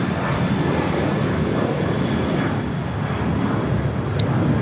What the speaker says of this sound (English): 1727 taking off to Denver, Colorado on a 737-800